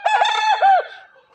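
A rooster held in someone's hands lets out a single close, loud crow, its broken beak noted by its handler; the call rises, holds, then trails off, with no talk over it.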